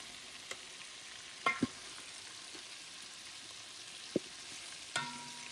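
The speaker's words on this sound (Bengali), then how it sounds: "প্রায় থার্টি থেকে ফর্টি পার্সেন্ট চিকেন একটু ফ্রাই হয়ে গেলেই হয়ে যাবে" Chicken pieces for biryani fry in a pan with a soft, continuous sizzle, broken by a few sharp clicks and knocks of utensils stirring. No one speaks.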